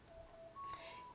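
A telephone gives off faint electronic beeps and tones indoors, a few short steady pitched notes sounding quietly in a muted room.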